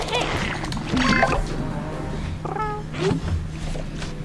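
Cartoonish cat meows from a Cat Lady card in a digital card game, two or three drawn-out mewing calls over a steady electronic hum and soft game effects.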